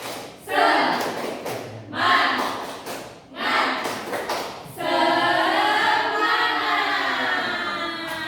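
A primary-school class performs a 'tepuk semangat' clapping chant, with loud group claps and thuds in bursts about every second and a half, then sustained voices chanting together.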